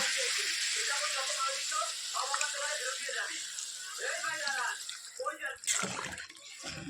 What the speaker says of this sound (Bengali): ঝোলের জন্য দিয়ে দেবো প্রয়োজন মতো জল